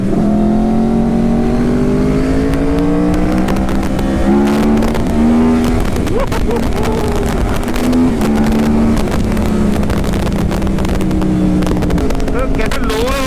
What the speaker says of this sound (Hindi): I actually pull this throttle on this motorcycle